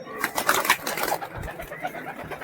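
Pigeons coo repeatedly at close range, soft throaty calls overlapping with other bird chatter in a busy loft of crested local pigeons for sale.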